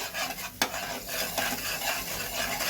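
Chili and turmeric masala being stirred in a pan for hilsa fish curry, a steady scraping swish with faint sizzling and one sharp clink of the spoon against the pan, close and moderately loud with no talking.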